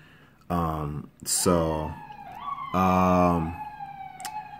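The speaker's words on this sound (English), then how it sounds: "There's an ambulance crossing the street outside on my block." A siren wails in rising and falling tones, fairly close and loud, sweeping up and down several times as a vehicle passes.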